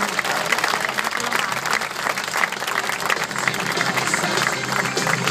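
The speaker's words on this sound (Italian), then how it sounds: "Facciamo un bel applauso." Dense, sustained applause fills the room at an Italian summer singing contest award ceremony, loud and continuous from a large audience with a faint crowd murmur underneath.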